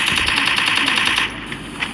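Rapid automatic gunfire from the Free Fire battle royale video game, a dense sustained burst of repeated shots that cuts off after about a second, followed by quieter game ambience.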